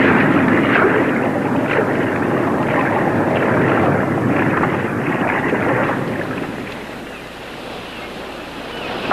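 An approaching ship heard from underwater gives a steady, loud, churning wash of sound with a broad rumble that holds for several seconds, then eases and thins toward the end.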